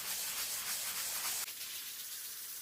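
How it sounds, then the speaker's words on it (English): Sandpaper sheet worked by hand across a primed artist's canvas, a steady dense scratchy rubbing that runs throughout, with a brief stroke change partway before continuing slightly softer. "Now I will start sanding the canvas using the complete sheet, using both my hands to save time"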